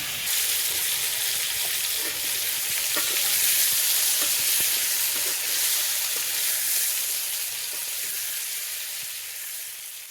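Pointed gourd (potol) frying in a pan makes a steady, close sizzle with scattered small pops and crackles, holding fairly even before easing off slightly toward the end.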